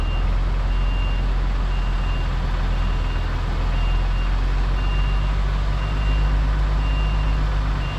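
A truck on a building-site delivery reverses with regular high beeps pulsing at a steady rhythm over a loud, close diesel engine rumble.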